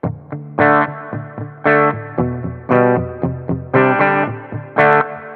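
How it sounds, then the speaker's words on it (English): Electric guitar, a Fender VG Stratocaster on its humbucker pickup tones, plays a series of thick, strummed chords and single notes, processed with distortion and chorus, loud and close. "So now these are humbucker tones."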